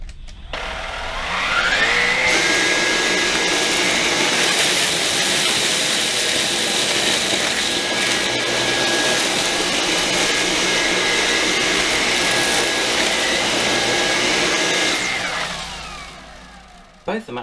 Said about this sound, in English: This is basically comparing sucking up cornflakes, and again they'll be on maximum power setting.